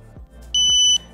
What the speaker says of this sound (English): If I press mode, there you hear that really loud beep, and I get a red LED.